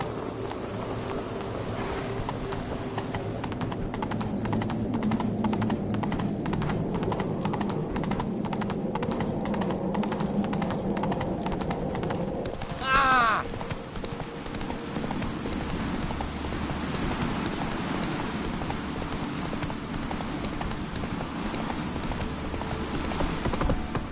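Horse hooves clip-clop at a gallop in the Witcher 3 video game, a fast, even rhythm that stays close and continuous with faint game ambience behind it.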